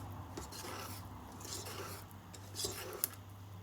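Spoon folding baking powder into orange cake batter in a bowl, quiet soft scraping and a couple of light clinks against the bowl, close and faint with no talking.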